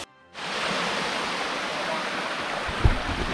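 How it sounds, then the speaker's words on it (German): A stream and waterfall spill over tufa rock in Franconian Switzerland, giving a steady, close, full rushing roar that holds constant from start to end. "Bach, Wasserfall hier."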